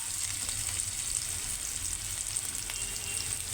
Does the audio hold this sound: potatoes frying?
yes